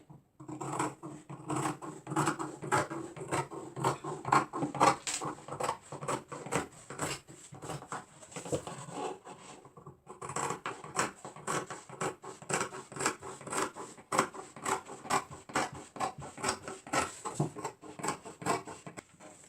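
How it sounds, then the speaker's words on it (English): Scissors snip through fabric while cutting out a kimono dress, a long run of crisp, rhythmic cuts, close and clear, with a brief pause near the middle before the steady snipping resumes. "So now we are going to cut it."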